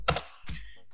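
Two quick clicky keystrokes on a computer keyboard, close and crisp, then a brief quiet tail.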